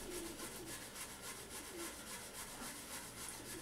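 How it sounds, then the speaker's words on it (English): Cloth dampened with acetone rubs over an ABS plastic computer case with a steady, faint scrubbing rasp. The strokes repeat rhythmically back and forth, heard alone and close. "Put some on the cloth, and then just rub it"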